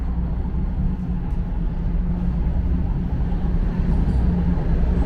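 Two subway trains pulling into a station on Toronto's Yonge line at once, a loud, steady low rumble and roar filling the platform without a break, heard close.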